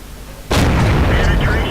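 A tank cannon fires in World of Tanks with a single sudden loud boom that rolls into a long rumbling tail, with a voice talking over it.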